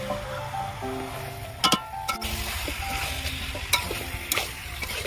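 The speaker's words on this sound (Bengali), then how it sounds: "ভালো করে এইভাবে কষতে থাকবো।" Chicken being sautéed in goat fat in a pan gives off a steady sizzle and fry, broken by sharp scraping clinks of a spatula stirring the meat, close and without talk.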